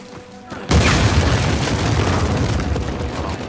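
A grenade explodes in the game Uncharted 4 as a sudden loud boom, followed by a sustained rumbling roar and crackling debris that slowly fades over a few seconds.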